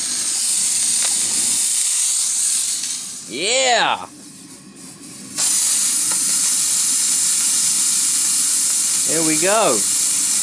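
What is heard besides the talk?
Hoover steam cleaner releasing hissing steam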